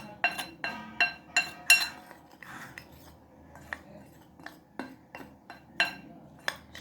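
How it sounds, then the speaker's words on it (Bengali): Spices, turmeric powder, ground black pepper and black cumin being mixed in a bowl for a pointed-gourd snack batter, heard as a run of sharp clinks of a utensil against the bowl, irregular and close, with no talk. "সবগুলো একসঙ্গে আমি মিশিয়ে নেব ভালোভাবে"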